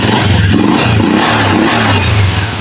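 A Honda TMX Alpha motorcycle engine turns over on the starter and runs, a loud close rhythmic low thumping chug that stays steady throughout.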